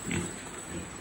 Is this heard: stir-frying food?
no